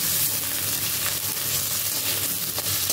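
Potatoes frying lightly in oil in a pan for a vegetarian gravy, a steady close crackling sizzle with faint occasional pops throughout.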